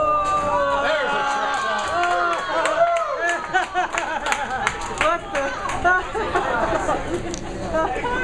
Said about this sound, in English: You got a great crowd reaction